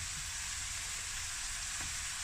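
Straight-to-wok noodles and vegetables stir-fry in a wok with a steady, quiet sizzle and a faint scrape or two.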